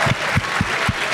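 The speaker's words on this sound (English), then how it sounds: "See, Mike, I didn't even have to tell him to clap" Audience applause at a tech conference keynote: steady loud clapping from a crowd, with rhythmic bursts running throughout the short stretch.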